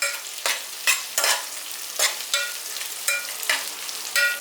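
Crushed ginger, garlic and slit green chillies frying in a pan for matar pulao, stirred in a regular rhythm of about ten scraping strokes over a continuous close sizzle, with no voices.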